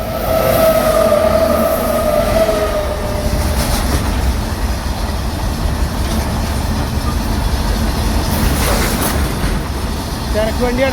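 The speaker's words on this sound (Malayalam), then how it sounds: "തിരക്ക് വണ്ടിയാണ്." A train passes along a railway line beside a forest, a steady broad rumble of rolling wagons lasting throughout, with a brief high wheel squeal near the start and voices talking faintly underneath.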